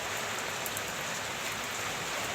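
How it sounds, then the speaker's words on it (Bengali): Steady, dense rain pours down, an even hiss of drops hitting surfaces with no other sounds. "বসে বসে তোমাদের সাথে বৃষ্টি শেয়ার করছি মনে ভেবে ভেবে"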